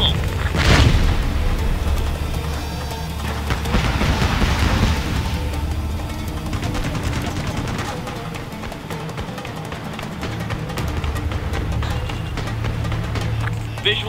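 Missiles explode in the helicopter action game Ace Combat Assault Horizon: a sharp, loud blast early on, then heavier booming rumbles over a constant low drone of combat noise, with faint radio voices mixed in.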